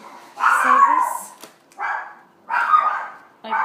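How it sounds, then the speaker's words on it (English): Several dogs bark indoors in three loud bursts of barking and yipping separated by short pauses, heard fairly close with no talking over them. "my dogs are barking"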